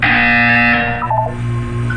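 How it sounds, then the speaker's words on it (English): A loud, sustained electronic buzzer drones in the Portal 2 video game, a harsh tone held for over a second before it shifts to a quieter hum. "You will hear a buzzer."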